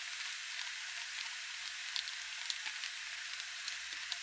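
Turmeric and mutton masala fry in a pan, giving a faint, steady sizzling hiss with scattered small pops and crackles throughout.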